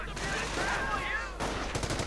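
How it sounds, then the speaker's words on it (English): Heavy machine gun fire rattles in a World War II strategy video game, a continuous mid-distance chatter of rapid bursts over battlefield noise, with a short pause and further shots near the end. "Will the heavy machine gun set up? Yes, indeed."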